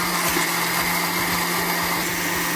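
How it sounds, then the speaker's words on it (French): A blender whirs steadily at close range, puréeing tartare ingredients into a smooth mixture, a loud unbroken motor drone with a constant hum and no pauses or voices. "On va tout mixer pour avoir quelque chose de très lisse"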